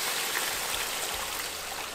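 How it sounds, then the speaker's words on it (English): Water pours into a soup pot of sautéed garlic, tomato and onions for Mexican meatball soup, making a continuous rushing splash that stays steady and close for the whole stretch, with no voices. "Once everything is nice and soft, you're gonna add your water."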